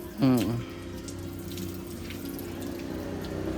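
Water gushes from a Jetmatic hand pump at a roadside, starting with a brief louder burst and then running steadily close by.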